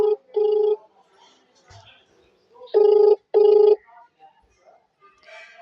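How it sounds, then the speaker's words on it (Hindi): A telephone ringback tone sounds as a call goes through, with two pairs of short, loud, evenly spaced rings separated by a quiet gap. "उनका फ़ोन लग चुका है"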